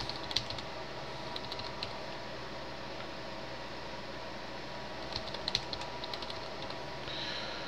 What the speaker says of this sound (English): Type in your password and log in for the first time.